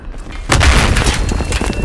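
A C4 charge detonates in Battlefield 3 on PS3 on the Seine Crossing map, one loud, deep, close boom that rumbles on for over a second.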